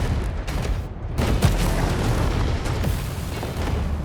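Missiles explode in the video game War Robots: Frontiers as a steady, dense rumble of booms and blasts with a few sharper thuds, loud and continuous, with no voices.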